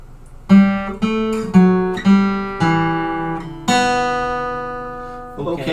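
A bar of the folk tune The Raggle Taggle Gypsy played slowly on strings, six plucked or bowed notes with ringing tones, the last held longest, alone without talk.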